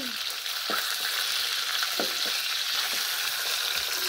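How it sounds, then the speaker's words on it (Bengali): Aar fish fries in oil in a pan, a loud continuous sizzle and spatter with a few sharp knocks of a utensil scattered through, with no talk. "দেখো আমি মাছ ভাজছি"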